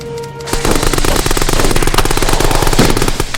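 Sustained machine gun fire in a dramatized tabletop wargame battle, a loud, rapid rattling stream of shots that starts abruptly after a brief lead-in and hammers on steadily without pause.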